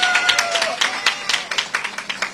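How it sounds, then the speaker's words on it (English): Outdoor campaign crowd in New York's Chinatown clapping for Wade Lee, a burst of moderately loud applause from a small group with individual claps standing out as it tapers off. "Let's give a round of applause for Wade Lee."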